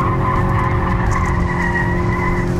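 Volkswagen Golf GTI accelerating with sustained tire squeal, a continuous loud screech over the engine's steady drone, close and unbroken for the whole stretch.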